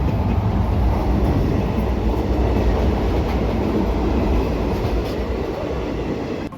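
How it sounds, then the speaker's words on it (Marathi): Passenger train 57657 on the Purna to Parli run rolls at high speed after leaving Mirkhel, a loud, steady rumble and roar of wheels and carriages that holds without a break. "मिरखेल सोडताच गाडी एकदम सुपरफास्ट स्पीडने धावू लागली."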